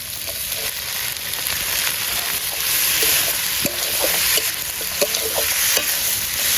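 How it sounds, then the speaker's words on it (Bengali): Fish head frying in spice paste in a pan at a winter picnic: a steady sizzle with scattered scraping clicks from stirring, close and without voices. "আমাদের মশলাটা একটু ভাজা ভাজা হয়ে গেছে, এখন মাছের মাথাটা ভেজে রেখেছিলাম ওটা দিয়ে দেবো।"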